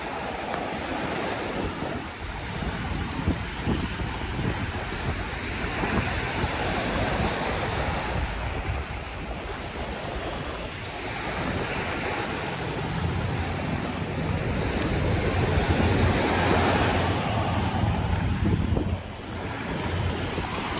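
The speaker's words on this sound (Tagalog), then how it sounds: "Yung ganito na malakas pa din po ang hangin at alon." Strong monsoon wind and waves at Manila Bay: a loud, constant roar of surf and gusting wind buffeting the microphone, rising and falling over twenty seconds with no voices.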